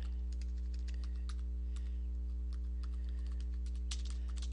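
Quick, steady typing on a computer keyboard sounds close up as a dense run of light key clicks, with a constant low electrical hum beneath it.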